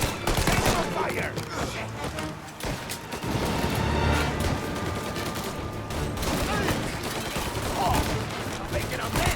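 Gunfire from the video game Mafia Definitive Edition rattles in dense, sustained bursts during a loud firefight, with shots, crashes and action noise layered over one another.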